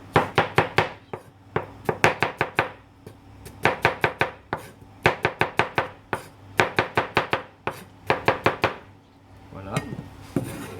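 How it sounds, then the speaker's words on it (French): Rapid bursts of knife chops on a cutting board as strawberries are sliced into rounds, sharp close taps in quick clusters with short pauses, a brief spoken word at the start. "Alors les fraises, on va les couper comme ça"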